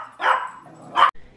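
A pet dog gives two sharp barks indoors at a home, close and loud, with a quiet pause between them.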